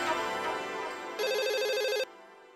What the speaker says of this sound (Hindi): हाँ मैं अभी फोन करता हूँ मिठाई वाले को।